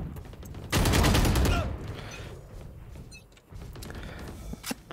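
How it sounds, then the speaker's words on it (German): An assault rifle in a video game fires a sustained burst of rapid shots lasting about a second, followed by scattered mechanical clicks and quieter game noise. "Testen wir mal eine andere Waffe. Das Sturmgewehr."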